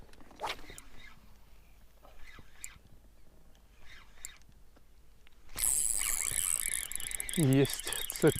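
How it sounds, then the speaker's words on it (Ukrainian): After faint outdoor sounds while fishing, a loud, dense buzzing drone of a cicada starts suddenly and continues nearby, with a brief squeaky sound over it. "цикада запрацювала."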